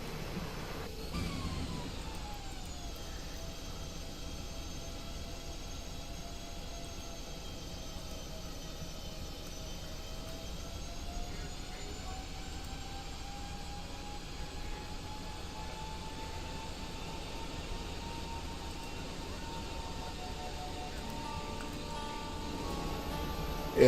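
Boeing 737 MAX airliner going around in Microsoft Flight Simulator, a steady droning engine hum with rising whine throughout, no voices.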